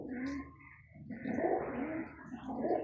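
Pigeons cooing in a home loft, soft low coos mixed with rustling and background noise, with some possible voices nearby.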